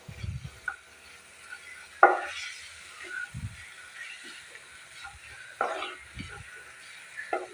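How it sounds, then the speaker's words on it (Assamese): Garam masala spices fry in a pan over a low gas flame for a jackfruit curry. A soft sizzle runs throughout, broken by occasional stirring scrapes and clinks of a utensil. "এই মছলাখিনিও মই ল' ফ্লেমতে গেছ আছে এইদৰে 1 মিনিট সময় ভালদৰে ভাজি ল'ম।"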